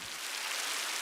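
Heavy rain falling, a steady dense hiss with no talking.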